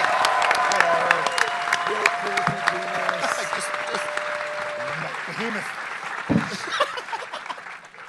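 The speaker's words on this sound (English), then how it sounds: "So can we get a big round of applause for all our guests?" Loud applause from a convention panel crowd at RTX 2014, steady clapping filling the room, with scattered cheers and some voices chattering underneath.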